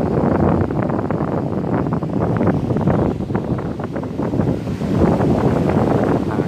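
Strong, cold wind buffets the microphone outdoors at a Buddhist temple, a loud continuous roar of gusts that swells and eases without pause.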